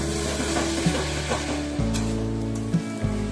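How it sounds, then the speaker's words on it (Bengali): Winter vegetables such as beans, eggplant and potato fry in a hot pan with a steady close sizzle, while a utensil stirs them with occasional scraping knocks. "এইভাবে হালকা হাতে সবজিগুলো একটু ভেজে নিচ্ছি।"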